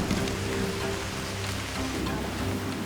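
Steady rain falls on a surface in a dense, even hiss with a faint low hum beneath, continuous and unbroken throughout, with no voices.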